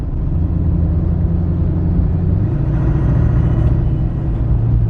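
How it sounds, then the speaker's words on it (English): A car engine runs after its turbo has failed, a loud, deep rumbling idle with a heavy low drone like a semi-truck, steady and close, its pitch shifting slightly midway. "It sounds like a semi-truck."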